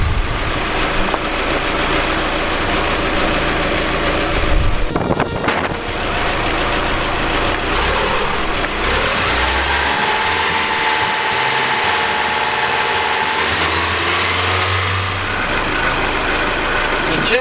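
A 2005 Mazdaspeed Miata engine idles as it warms up to temperature, a loud steady rumble that carries on throughout, with brief clatters and a shift in tone partway through.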